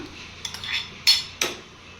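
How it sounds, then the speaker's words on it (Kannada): Boiled penne pasta stirred into white sauce with vegetables in a pan, giving a few soft clinks and scrapes of a utensil against the cookware at irregular moments, close and fairly quiet. "ಚೆನ್ನಾಗಿ ಮಿಕ್ಸ್ ಮಾಡ್ಕೊಳ್ಳೋಣ. ಈವನ್ ಆಗಿ ಎಲ್ಲ ಸಾಸ್ ಪಿನಾ ಪಾಸ್ತಾಗೆ ಸ್ಟಿಕ್ ಆಗೋ ಥರ ಮಿಕ್ಸ್ ಮಾಡ್ಕೊಳ್ಳೋಣ"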